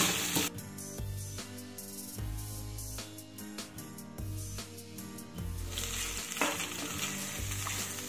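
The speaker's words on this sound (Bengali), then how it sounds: "আর নারকেলটাও কিন্তু এর সাথে ভালো করে ভেজে নিতে হবে" Grated coconut fries with potatoes and chickpeas in a pan, giving a soft, continuous sizzle broken by repeated stirring scrapes, with faint tonal sounds underneath.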